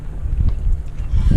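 Wind gusts across the microphone at a creek during a fishing outing, a loud, continuous low rumble that rises and falls in buffeting surges.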